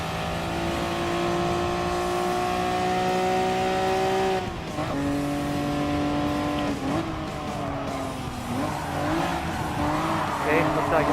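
Race car engines in Gran Turismo Sport drone with steady tones that shift pitch through gear changes during a Suzuka Circuit East N300 JDM race, then tires squeal and skid in the later seconds, loud and continuous, with someone talking over it.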